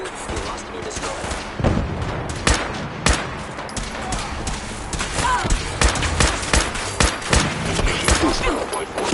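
Gunfire bursts out in a Fallout 4 battle against Institute forces, with rapid repeated shots and heavy booms over a continuous din, and game voices speak over the shooting.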